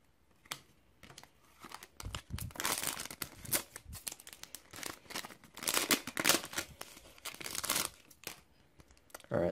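A Cardfight Vanguard Extra Booster 10 Divas Duet pack is torn open and handled, with close, loud bursts of foil crinkling and ripping in irregular runs.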